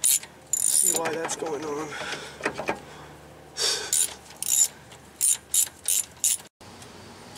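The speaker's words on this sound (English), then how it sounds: "I'm gonna take this loose, take all these bolts off, 12 millimeter" A ratchet clicks in short, sharp bursts while loosening 12 mm bolts on a Suzuki Samurai rear axle, close and fairly loud, with a brief spoken remark early on.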